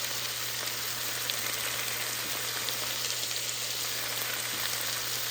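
Spices hiss and sizzle in hot oil in a pan of cooking vegetables, a dense steady frying crackle that holds at even loudness throughout.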